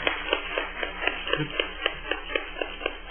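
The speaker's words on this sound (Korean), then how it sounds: "하나님께 영광의 박수를 돌려드립시다" A church congregation claps together during a Sunday afternoon service, a steady even beat of many hands, fairly soft and somewhat distant, with a low sustained tone underneath.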